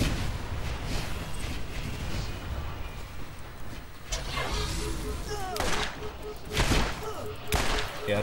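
Rapid bursts of gunfire and heavy thumping blasts from a Borderlands shooter firefight, dense and continuous, louder around the later shots.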